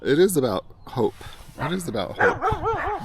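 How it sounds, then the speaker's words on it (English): Dogs bark and yip off in the background, heard intermittently under a person talking close by. "I'm sorry for the dogs barking in the background."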